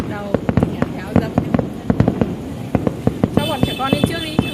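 A fireworks display over the Hồ Văn Quán area bursts in rapid, irregular bangs and crackles, loud and close, while people talk in the background and wind buffets the microphone.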